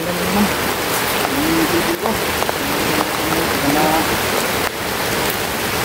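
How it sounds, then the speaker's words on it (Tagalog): A downpour of heavy rain roars continuously close by, a thick even wash of noise with brief faint voices buried beneath it. "Oh, malakas yung ulan."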